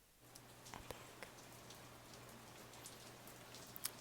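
Heavy rain pours over a city in a steady, dense hiss, with scattered sharper drops and splashes landing close by throughout, and no voices.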